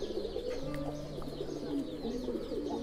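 A fighter pigeon coos in low, soft repeated rolls close by, with faint chirps from other birds in the background and no talking.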